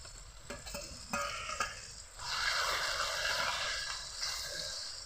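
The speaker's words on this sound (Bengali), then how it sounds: "মশলাগুলোকে দিয়ে কিছুটা ভেজে নেব পেঁয়াজ টমেটো মশলাগুলোকে দিয়ে ভালোভাবে ভেজে নিলাম" Ground garlic, ginger and chili paste fries with onion and tomato for a chicken curry, with a few scraping stirs followed by a loud, continuous sizzle close by, and no talking.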